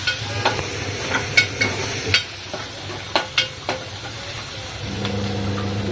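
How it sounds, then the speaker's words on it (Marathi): Tempering (phodni) for dal sizzles steadily in a pan close by, broken by a series of sharp scraping stirs and clinks at irregular intervals, with no talk. "पाहू शकता आता डाळीला फोडणी."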